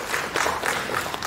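Audience applause at a Tamil film event, a steady wash of clapping from a sizable crowd, close and fairly loud, holding evenly for its short length.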